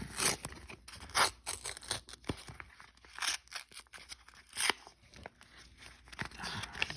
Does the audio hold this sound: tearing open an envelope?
yes